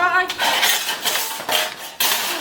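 Metal dishes, pots and pans clatter and clang in several loud bursts, with bright ringing clinks and a faint voice briefly underneath.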